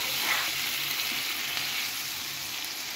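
Marinated ingredients with Kashmiri chilli powder sizzling and frying steadily in a pan for a Bengali echor (young jackfruit) dalna, a constant close hiss with no talking.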